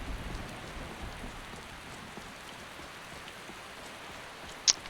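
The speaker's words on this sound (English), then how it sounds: "I know it's raining and everything" Rain falling in the Skyrim video game, a steady soft patter of drops on surfaces with a faint ticking texture and one brief sharp click near the end, no voice.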